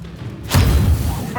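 A Confringo fire-spell explosion in the Hogwarts Legacy video game: a sudden loud, close boom with a broad whoosh and rumbling low tail, amid game combat noise and voices.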